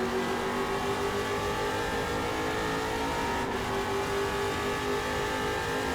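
Trans Am race cars at speed on the Portland International Raceway circuit, a steady loud engine roar with sustained high revs and gear changes throughout, no voices.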